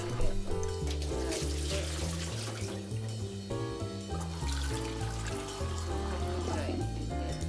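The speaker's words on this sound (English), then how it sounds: "Renew the water in the potato pot." Water runs steadily from a tap into a pot for boiling potatoes, a continuous splashing stream under background music.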